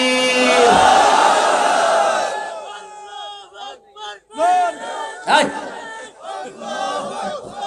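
A large crowd at a Bangla religious sermon gathering answers the takbir call with one long, loud unison shout, then the din breaks into scattered voices and a lone speaker.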